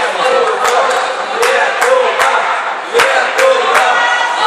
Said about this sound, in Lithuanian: Girdite, kad Sausakimša arena skanduoja Lietuva.